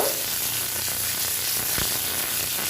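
Chopped potato and green chillies dropped into hot oil with mustard seeds, giving a steady, close, bright hissing sizzle throughout with a faint scrape of stirring.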